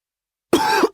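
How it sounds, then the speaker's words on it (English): A single harsh cough after a moment of silence, close and clear, followed by a short second burst. "Oh dear, that's a bad cough."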